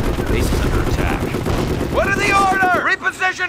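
Rapid gunfire and explosions in the Company of Heroes war game during a D-Day campaign battle: dense crackling shots, then a sweeping whistling shell and heavy booms, with soldiers shouting over the din.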